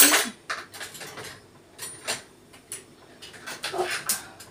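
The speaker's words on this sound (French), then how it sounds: "Il faut juste que je rajoute les petites cuillères qu'on a utilisées." Teaspoons set down one after another on a breakfast tray, giving a series of sharp metallic clinks and taps spaced irregularly with quiet gaps between, close and clear.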